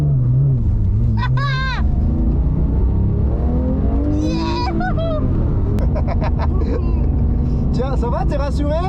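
Porsche GT3 RS engine droning loudly from inside the cabin on a race circuit, a steady heavy rumble with shifting pitch as it accelerates, with people talking and exclaiming over it.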